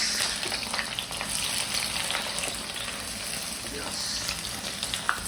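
Onions fry in hot oil in a kadai, giving a steady, dense sizzle that holds evenly throughout at close range with no voices.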